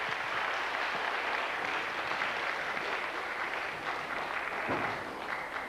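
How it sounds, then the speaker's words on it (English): A concert audience at the Sean McAloon Memorial concert applauds a group's performance with steady, dense clapping that fills the whole stretch at an even level and never fades. "Give them another big round of applause."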